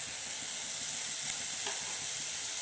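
Vegetables frying in a pan for a coconut peanut vegetable soup, with ground peanut powder just added: a steady, even sizzle hisses throughout, moderately loud and close, with no talking.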